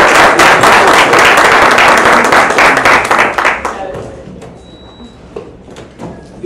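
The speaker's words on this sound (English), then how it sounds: "round of applause for Lawrence for the." Applause at a live college event: a burst of close, energetic clapping that thins out and fades after a few seconds, leaving scattered claps and quiet room noise.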